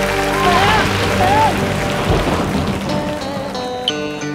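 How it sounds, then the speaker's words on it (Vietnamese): Rain falls steadily as a dense hiss under a dramatic scene, with a low rumble like thunder and other voiced and musical sounds layered over it. "Ông trời ơi, ông đừng mưa nữa."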